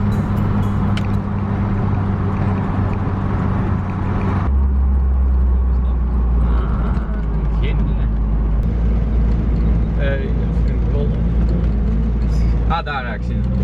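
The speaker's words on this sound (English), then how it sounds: "Currently you find me driving on the freeway to an IKEA parking lot" Steady road and engine rumble from inside a car cruising on a freeway, loud and continuous, with a voice talking over it.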